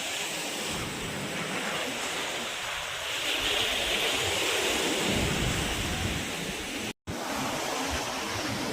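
Sea waves at Chavakkad Beach in Kerala churn in a steady, loud, broad roar of surf at the water's edge, continuing without pause apart from a momentary cutout near the end.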